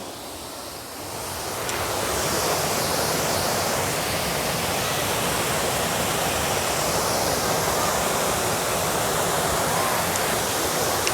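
The first tier of a nine-tiered waterfall in Suan Phueng, Ratchaburi, Thailand, roars continuously, a broad rushing wash that swells in the first two seconds and then holds steady and loud.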